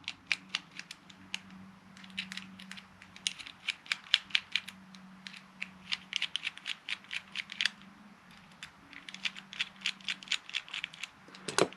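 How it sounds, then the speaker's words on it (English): Small screws are removed from a Spectrum SR6200A receiver with AVC, heard as quick, faint, close-up clicks and ticks in irregular bursts against a quiet background. "All right, so we're just going to take these screws out."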